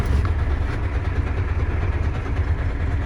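A car engine, running after a repair at about 40 degrees, idles with a steady low rumble, loud and continuous throughout.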